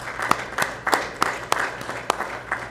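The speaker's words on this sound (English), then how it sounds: "So please join me in one more round of applause" A small audience at a school board meeting claps for board members, sparse, distinct claps in a loose rhythm rather than a full roar, heard fairly close with no speech over it.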